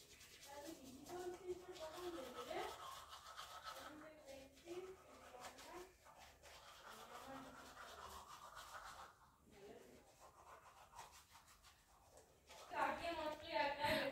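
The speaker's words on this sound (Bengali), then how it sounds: "দেখো বন্ধুরা ব্রাশ করে নিলাম" A toothbrush scrubs teeth in a quiet home, soft rhythmic bristle scratching at close range, with someone talking over it and a few louder rustles near the end.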